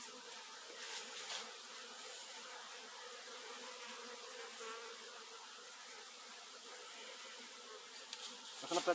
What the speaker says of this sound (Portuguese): Ali ó, como tá de abelha.